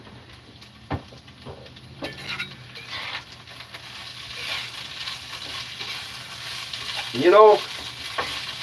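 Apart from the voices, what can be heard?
stirring potatoes frying in a pan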